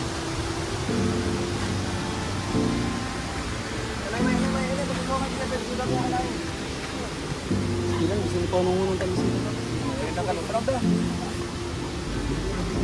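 Tinuy-an Falls waterfall gives a steady, loud broadband rush that runs through the whole scene, with voices and tonal sounds layered over it.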